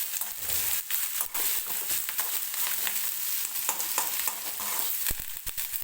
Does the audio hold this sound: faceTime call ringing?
no